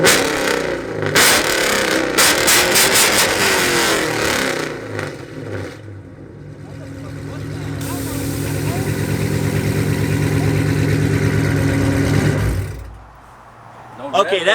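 A widebody Dodge Charger revs hard in a rev battle, loud close engine roar climbing and falling, dropping to a rough idle, then building into a long sustained rev before cutting off.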